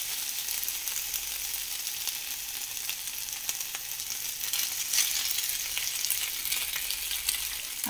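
Noodles being stir-fried in a pan with chilli, a loud continuous bright sizzle with scraping and tossing noises, close and steady, no voices.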